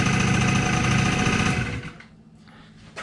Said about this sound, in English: another big feature that we enjoy about the Genuine Scooter Company Buddy 50 is the fact that it does feature an electric start